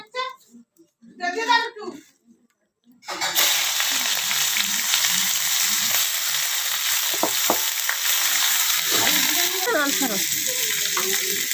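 Onion frying in oil for a potato curry on a home stove bursts into a loud, steady sizzle after a quiet start, hissing continuously while people talk briefly nearby.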